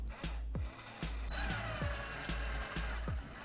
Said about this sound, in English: I'm just using the weight of the drill to slowly drill this hole and chip away at the pot.